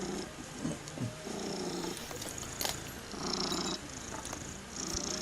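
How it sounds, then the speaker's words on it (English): A cat crawls over someone working on a car and purrs in a low, rumbling, uneven drone. The purring is faint and sits under scattered shuffling and handling noises. "with this cat crawling all over me"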